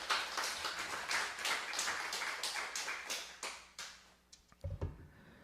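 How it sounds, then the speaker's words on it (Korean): A church congregation at a Sunday worship service bursts into applause, a dense wash of clapping that thins out after a few seconds into scattered last claps, heard at a distance in a large room. "동의하신다면 박수 부탁드리겠습니다."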